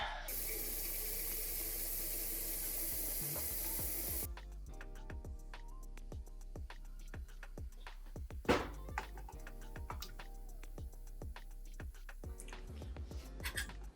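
Water runs steadily from a kitchen tap into a cooking pot for about four seconds, then cuts off and leaves scattered light clinks and knocks of cookware nearby.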